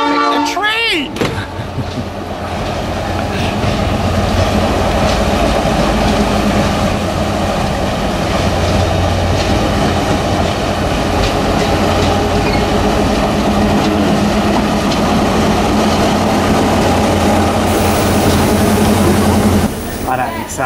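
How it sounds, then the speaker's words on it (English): A heritage train on the Zig Zag Railway near Lithgow, New South Wales, rumbles steadily and close by with a continuous loud roar, a brief voice near the start. "The train!"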